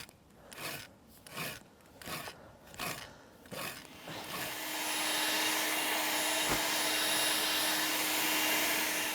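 A garden blower clears debris from a patchy lawn. Several rhythmic scraping strokes come first, then the blower starts and holds a steady, rushing drone until the end.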